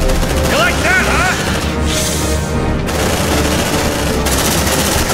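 Rapid bursts of automatic gunfire and heavy blasts from a grenade in the sci-fi game Aliens Dark Descent, loud and dense throughout, with a brief shouted voice.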